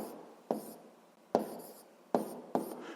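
Handwriting with a pen on paper makes close, soft scratching strokes, with four sharper taps as the pen meets the page, spaced unevenly over a few seconds in a quiet room.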